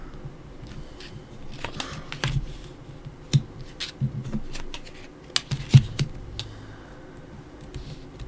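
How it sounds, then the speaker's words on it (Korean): Tarot cards are shuffled and laid out, with soft irregular flicks, slaps and taps of card stock scattered over several seconds, close and fairly quiet, no talk. "타로 카드 열어볼게요"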